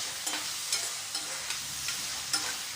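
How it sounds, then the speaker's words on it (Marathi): Corn kernels fry in hot oil, giving a steady, moderately quiet sizzle punctuated by several light stirring clicks spaced at roughly even intervals. "हे दाणेसुद्धा आपल्याला गरम तेलामध्ये छान असे फ्राय करून घ्यायचे आहेत"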